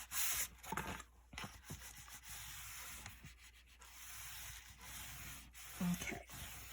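Paper being pressed and stuck down onto a large mini album page, heard as close, quiet rubbing and smoothing strokes with brief pauses, no talk.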